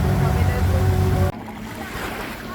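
A speedboat on a Koh Phi Phi island tour nearing Bamboo Island beach, its engine rumbling loudly before cutting off abruptly, leaving waves, wind and water lapping.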